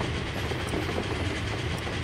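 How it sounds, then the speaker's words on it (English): A steam train in the wild-west video game GRIT rolls past with a steady clattering rumble and rhythmic clickety-clack, continuous and fairly close. "Oh my god. I hear that train."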